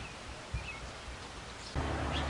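Rain falls steadily on a gloomy day, a soft continuous patter outdoors that swells to a heavier, louder wash near the end, with a faint bird chirp in the background.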